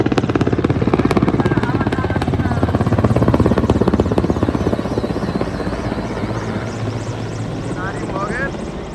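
Helicopters in a steady chopping rotor drone pass over a huge crowd gathered for a Modi rally, loud and close throughout, with crowd noise and talking underneath and a few whistles near the end.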